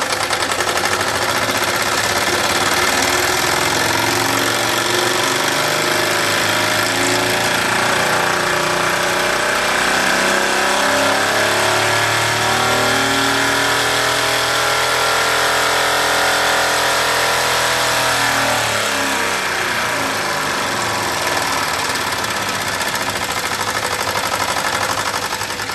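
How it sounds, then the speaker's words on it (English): A Wilesco D22 model steam engine chugs loudly and steadily, its rapid beat rising in pitch as the revs climb, then easing off near the end. "boost up the revs a bit"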